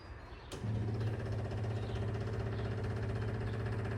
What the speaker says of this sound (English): That's the electric fuel pumps.